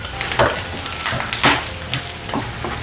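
Chopped onion sizzles in hot oil in a pan, a steady loud frying hiss with a few brighter spits and stirring scrapes, no voices.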